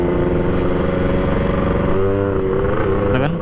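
Yamaha RX-King two-stroke motorcycle engine revving hard and close, a loud buzzy continuous roar whose pitch climbs and shifts throughout the short stretch.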